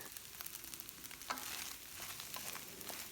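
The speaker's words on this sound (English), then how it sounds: "So then we're going to add in our rice" Rice tipped into a hot wok for special fried rice with pork and beef biltong, a steady close sizzle with stirring scrapes and small spatters, no voices.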